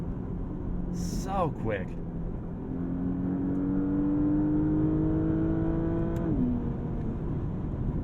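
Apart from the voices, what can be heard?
2021 Porsche Panamera engine revving to the red line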